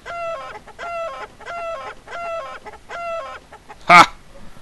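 A chicken in the video game Die Reise ins All clucks in five evenly spaced bursts of rapid, nasal notes, close and clear, followed by one short loud squawk at the end.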